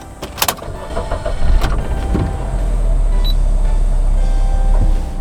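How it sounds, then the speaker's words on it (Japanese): A second-generation Suzuki Swift (ZC71S, 2WD) engine cranks and catches, then settles into a steady, rumbling idle heard from inside the cabin, with no talking. "ではエンジンかけます"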